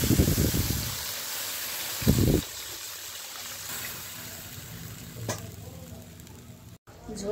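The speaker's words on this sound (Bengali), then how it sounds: "এখন আমি ঝোলের জন্য পরিমাণ মতো জল দিয়ে দিব" Water pours into sizzling fried spice masala in a pan for a silver carp fish curry; a loud hiss and crackle surges, then settles into a steady, softer simmering fizz with a few clinks.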